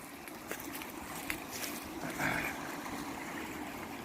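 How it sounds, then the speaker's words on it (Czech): Water of a small forest stream in Slovakia trickles and gurgles steadily at low level while someone wades through it, with a few soft splashes and footfalls in the shallow current. "To je tady potok. Takže musíme přebrodit potok."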